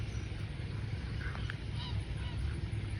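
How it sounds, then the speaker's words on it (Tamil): Large flock of waterbirds at Karaivetti Bird Sanctuary in Tamil Nadu, honking and calling together in a steady, dense outdoor chorus over constant low background rumble, with a few sharper calls standing out. "அப்பா எவ்வளோ பறவை இருக்குது"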